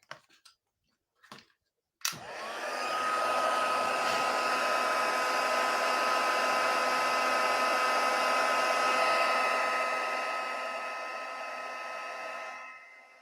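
An embossing heat tool blasting steady hot air over stamped card, switching on with a click after a few soft taps and holding a loud, even whine for about ten seconds before tapering off.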